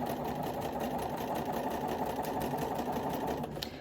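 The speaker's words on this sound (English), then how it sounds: "So get as close as you can to the pin and then pull it out and keep sewing." A sewing machine stitches a quilt block with a steady, fast mechanical whir and rhythmic needle chatter, running continuously at moderate volume with no voices.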